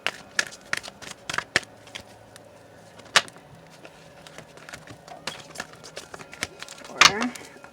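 Oracle cards are shuffled by hand in a quiet room, giving a scatter of crisp, close papery flicks and riffles with irregular pauses.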